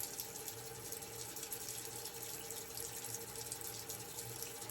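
Water runs steadily from a tap to wet an alum block after a shave, a continuous close hiss and splash with no break.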